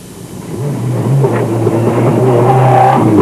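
Inside the cockpit of a Dakar rally car in the 1996 Guinean jungle stage, a loud engine drone rises steadily, revving and building in pitch throughout.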